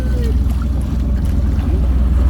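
A boat engine runs with a loud, steady low throb that fills the whole stretch without a break, close by on a river.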